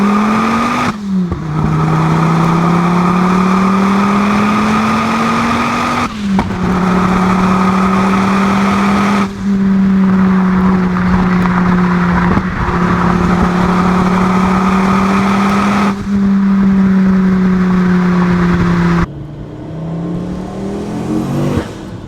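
Turbocharged five-cylinder Volkswagen accelerating hard through several gears, loud close engine revs that climb steadily and drop at each shift, repeating across the run.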